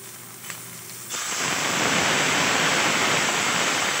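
Water poured into a hot frying pan hits with a sudden loud sizzling hiss that swells and holds steady, replacing quieter kitchen sounds.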